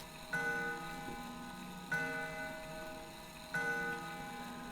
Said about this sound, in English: Looking up, I can spy the outline of a clock. I bet that's what's making the sound.